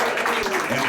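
A studio audience at a Nashville country radio show briefly claps on cue, a short, dense patter of applause.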